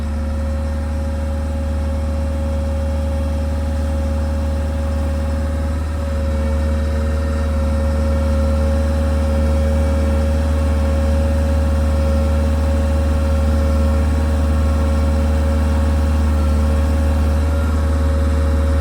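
A Toolcat UW56 utility vehicle runs throttled up with its auxiliary hydraulics engaged, giving a loud, steady, close engine drone with a constant tonal hum and no speech throughout.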